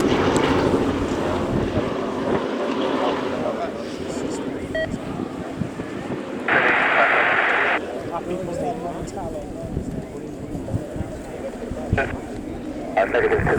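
A Boeing B-17G Flying Fortress makes a smoke-on flypast at the RIAT air show at Fairford, its piston engines droning steadily under wind buffeting and an announcer's running commentary, with a bright tonal burst midway.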